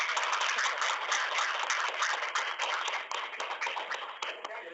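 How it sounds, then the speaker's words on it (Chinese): Audience in a university lecture room clapping after a guest talk on temple festival planning, a steady dense patter of hands for several seconds that thins slightly toward the end. "我们这个鼓掌"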